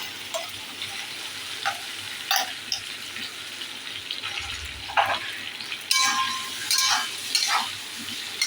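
Tomato paste going into a hot frying pan for dhoka dalna, giving a steady close sizzle with scattered stirring scrapes and taps throughout.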